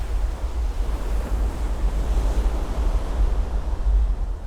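Cold North Atlantic Ocean waves heard from a small vessel, a continuous heavy rumble of surf and rushing water mixed with gusty wind noise, loud and close with no voices.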